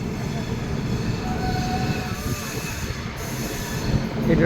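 A train rolls along the rails with a loud, steady rumble and clatter, a thin wheel squeal rising now and then over the continuous noise.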